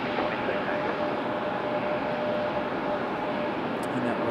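A Copa Airlines Boeing 737 MAX 9 passing near a spotting spot at Raleigh-Durham International, heard as a steady, broad jet roar that holds level throughout without much change.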